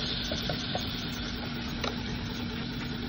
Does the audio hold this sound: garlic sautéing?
yes